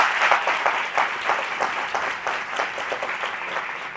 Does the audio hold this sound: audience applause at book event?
yes